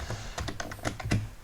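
Keys tap on a computer keyboard while text is typed into a desktop publishing application, a quick irregular burst of about ten light clicks, close and quiet against a faint steady background hum.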